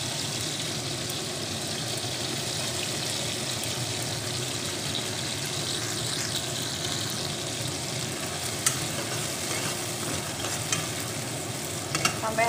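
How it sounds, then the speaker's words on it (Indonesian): Spice paste for stir-fried tempeh and long beans sizzles steadily in a pan, a dense, continuous frying hiss with soft stirring scrapes throughout and no speech. "Sampai harum ya, kita oseng-oseng."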